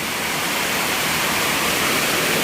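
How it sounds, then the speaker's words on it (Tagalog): Floodwater pouring into a house during heavy rain, a constant loud broadband rush of water with no pauses, close by and without voices. "Papasok na yung tubig dito sa bahay."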